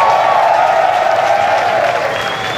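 A nightclub show audience applauds loudly and steadily in a dense crowd roar, with some cheering mixed in, sustained for a few seconds.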